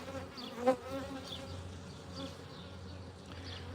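A dense, steady drone of honeybees buzzing close by around open hive frames, with individual bees flitting past amid the constant hum.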